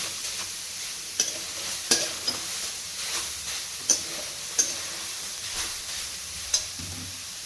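Carrot halwa roasts in ghee in a pan, a soft, continuous sizzle broken by repeated light metallic clinks and scrapes of a spoon stirring at an irregular pace, no talking.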